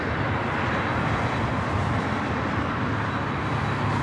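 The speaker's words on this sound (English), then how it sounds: "Tom 767 pushing back from the gates" A Boeing 767-300ER airliner is pushed back from the gate at LAX, heard as a steady broadband roar of engine and airport noise that stays constant and fairly loud without clear peaks.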